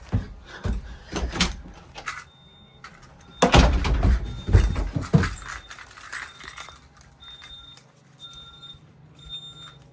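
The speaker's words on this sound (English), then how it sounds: "What I'm gonna do is I'm gonna open the basement door." A basement door in a house with a Honeywell Vista security and fire alarm system is unlatched and opened, giving several loud knocks and thumps, followed by repeated short electronic chirps from the alarm keypad.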